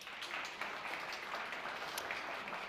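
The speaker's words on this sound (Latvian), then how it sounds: "Aplausus tagad." Audience applause at an architecture and housing awards ceremony, a steady wash of many hands clapping that holds evenly throughout without rising or fading.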